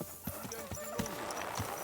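Hooves of a horse in a video game clip-clop in an uneven trotting rhythm, a string of soft thuds at moderate distance, with faint game ambience and light talk in the background.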